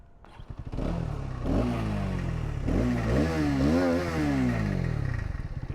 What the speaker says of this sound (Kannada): ಗಾಡಿ ಸ್ಟಾರ್ಟ್ ಮಾಡ್ತೀನಿ ನೋಡಿ ಎಕ್ಸಾಸ್ಟ್ ಹಿಂಗಿದೆ ಅಂತ